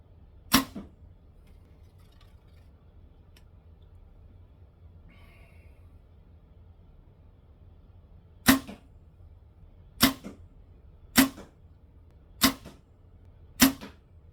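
Arrows shot from a bow in a test of heavy versus light arrows: one sharp release crack, a long pause, then four more snapping shots about a second or two apart, loud and close against a quiet background.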